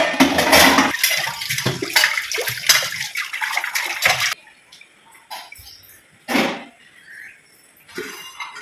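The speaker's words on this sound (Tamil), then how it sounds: "அதுக்குள்ள நீங்க பாத்திரத்தை கழுவி போட்டுக்கோங்க" Utensils are washed under running water in a home kitchen: bursts of splashing tap water with clinks of metal and glass vessels, then quieter gaps broken by short splashes and knocks, close and without talk.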